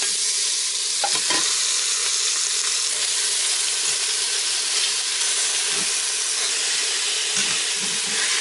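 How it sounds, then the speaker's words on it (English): Pork belly searing in its own rendered fat in an Instant Pot, a loud, steady hissing sizzle that fills the clip, with a few faint clicks of a utensil, close and uninterrupted, no speech. "This is just to brown, you know, all sides of it if you can."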